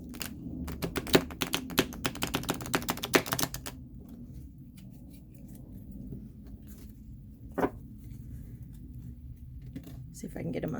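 Rapid papery riffling and crisp taps as stuck tarot cards are feathered for about three and a half seconds, then quiet handling with one soft knock, close up.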